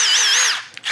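A Milwaukee power drill with a magnetic bit accessory whines loudly up close, its pitch wavering as it drives. The motor then winds down, ending in a short click before spinning briefly again.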